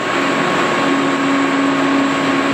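A loud, steady mechanical drone with a sustained humming tone, an old planer vibrating with harmonics while cutting, constant throughout with no talking.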